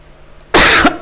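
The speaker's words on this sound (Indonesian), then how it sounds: "Maaf, saya sedang batuk juga ya." A single harsh, close cough bursts out after a quiet moment, followed by the start of a second cough.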